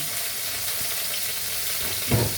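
Garlic and ginger sautéing in a pan for chicken feet adobo, a constant close sizzle with a brief louder clatter near the end, no talking.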